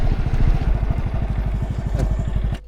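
A motorcycle idles in a queue at a border crossing between Russia and Poland, its engine putting out a steady, close, throbbing beat that cuts off abruptly near the end.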